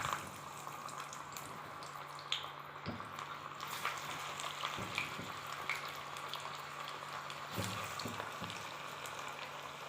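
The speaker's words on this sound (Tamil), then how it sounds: "காஞ்சிருச்சு, வடை போட்டுக்கிறேன்" Banana flower vada dropped into hot oil fry with a soft, continuous bubbling sizzle, faint and steady, with a few scattered light clicks and no speech.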